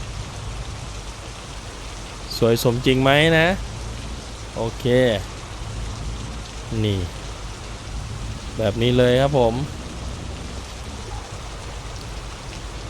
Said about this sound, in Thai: วิ่งตอนฝนตกนี่แหละนะครับ